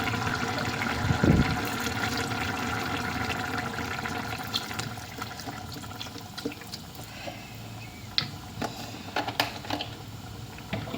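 First-press coconut milk poured into a hot pan of liver pepper fry, with a brief splashing gush near the start, then a steady bubbling simmer and faint scattered clicks.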